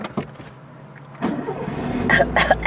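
A car engine rumbles low and grows louder as the vehicle pulls in close by, with faint background clatter.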